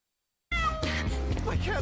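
A cat meows loudly and close after a moment of silence, a drawn-out plaintive call with a shorter follow-up.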